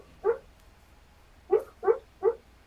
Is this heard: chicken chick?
no